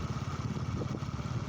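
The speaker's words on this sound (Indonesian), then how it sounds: "teman-teman sendiri yang mengendarai motor ini ya" Motorcycle engine running steadily while riding through a village setting, a continuous low rumble with slight throbbing pulses, close and even in level throughout.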